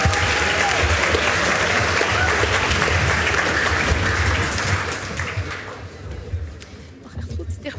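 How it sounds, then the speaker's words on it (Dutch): A hall of students at a national school debate gives loud, dense applause for two new speakers, a roaring clatter that fades after several seconds, leaving voices and scattered sounds. "En dan mogen jullie weer een hard applaus geven voor de twee nieuwe stellinginleiders"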